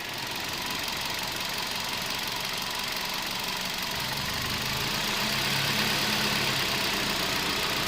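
A Hyundai car engine idling with the air conditioning switched on, a steady close drone with a low rumble that swells slightly partway through, constant and without talking.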